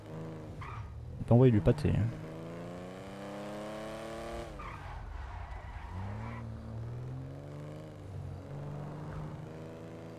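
A small turbocharged four-cylinder car accelerates in a video game, its engine note rising in steady revving sweeps with a brief burst of tyre squeal early on, while someone talks over it throughout.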